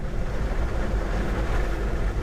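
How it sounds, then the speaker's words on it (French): Tesla Model 3 rolling over snow, with steady wind rush and a dense low rumble from the wheels, continuous and fairly close, no voices. "le vent, le bruit des roues qui claquent sur la neige"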